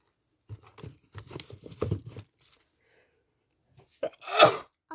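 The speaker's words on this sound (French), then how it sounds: "J'ai éternué." A single loud, close sneeze bursts out near the end, after a stretch of soft rustling and handling sounds at a paper-crafting desk during a junk journal session.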